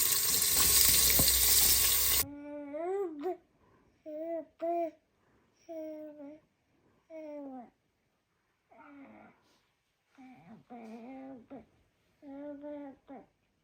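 Onions hit a hot pan for a meat curry with a loud, dense sizzle for about two seconds, then a young child babbles and vocalizes in short bursts over near-silence.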